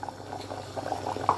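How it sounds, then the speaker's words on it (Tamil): Water at a steady rolling boil in a pot for kodo millet (varagu) mutton biryani: a continuous bubbling and gurgling at close range, with no voices over it. "ஓகே, ஸோ பார்த்தீங்க அப்படின்னா நல்லா கொதிக்குது."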